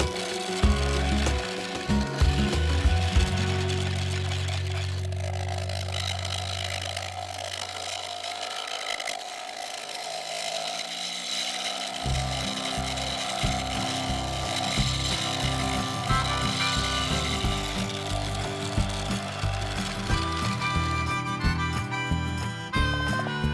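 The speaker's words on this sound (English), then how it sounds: "So to deal with that, I turned to the negative rake scraper" An oak block for a fruit bowl spins on a wood lathe while a negative rake scraper works it, giving a low motor hum that shifts in pitch, with close scraping and rough cutting texture over it.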